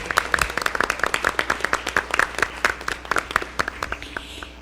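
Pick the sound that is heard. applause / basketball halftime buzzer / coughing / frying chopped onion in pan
applause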